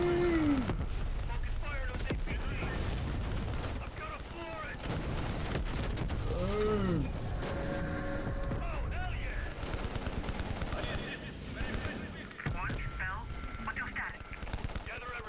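Gunfire in the Call of Duty: Cold War video game comes in automatic bursts and single shots amid game effects, with a player talking over the action throughout.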